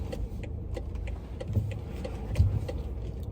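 A car being parked gives a quiet, low engine rumble with a few small mechanical clicks and knocks, close by and fairly faint.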